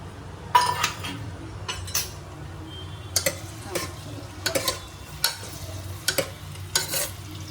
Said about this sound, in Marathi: तेल थोडंसं तापलेलं आहे, त्याच्यामध्ये कांदा टाकूया आपण.